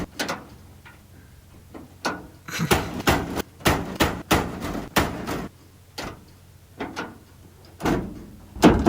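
A Toyota Hilux door slammed again and again in hard, sharp bangs at an uneven rhythm, some clustered close together, loud and near with no talk over them.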